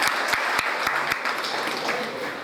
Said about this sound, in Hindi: अच्छा सब तालियां बजाएंगी जैसे आप बजा रहे हैं।